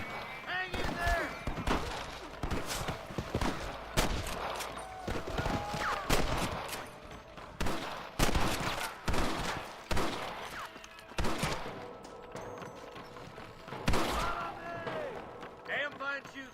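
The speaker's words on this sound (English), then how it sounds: "Damn fine shooting, boys." Gunfire in the Western video game Red Dead Redemption, rapid repeated rifle and pistol shots cracking in bursts, with horse hooves clopping and voices talking over the fight.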